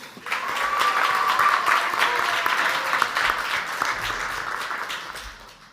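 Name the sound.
applause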